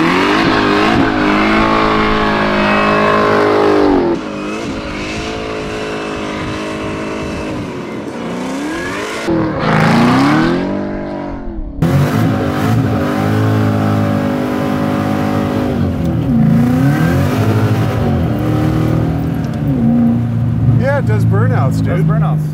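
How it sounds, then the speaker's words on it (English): A 670 hp supercharged LT4-powered Bertone Volvo revs hard and loud from a stop, engine roaring up and down with tire squeal as it attempts a burnout, with people talking inside the car between the surges. "Just to see if it'll do a burnout."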